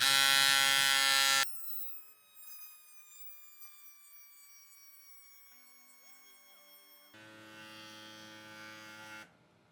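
A portable electric bike pump inflates a wide bike tire, starting with a loud buzzing hum that gives way to a quieter, rising motor whine before the loud buzz returns near the end.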